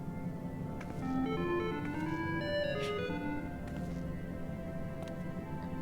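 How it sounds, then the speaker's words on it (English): Off-key humming from Final Fantasy XIV: Endwalker, a wavering melodic voice with shifting pitches that drift unevenly, held steadily over a constant background of game ambience. "You're humming? If one can even call it that."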